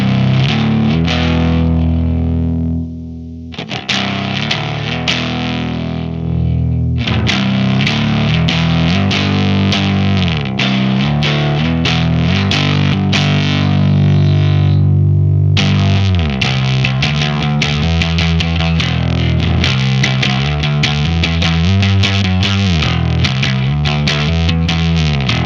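A bass guitar run through a Swamp Witch Silver Birch Overdrive pedal while its low end control is adjusted: a thick, fuzzy riff of repeated picked notes, loud and steady for around twenty-five seconds with brief pauses, and no speech.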